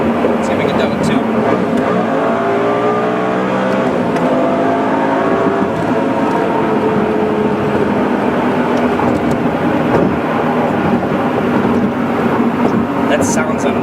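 A Lamborghini Gallardo with E-gear transmission roars steadily, loud and close from inside the cabin, revs rising and falling under shifting gears, with a person talking over it.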